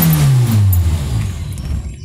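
An LPG-fuelled car engine runs for a moment after the ignition is switched on, its loud drone sagging in pitch as the gas runs out, then fading toward quiet.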